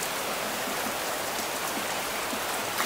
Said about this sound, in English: It's really starting to pour now.